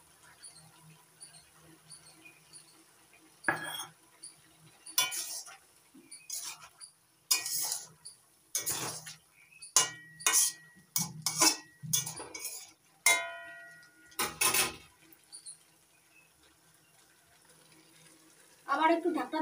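Broccoli and peas get stirred in a pan, with a series of short scraping and clinking bursts of a utensil against metal separated by quiet pauses, fairly close and moderate in volume.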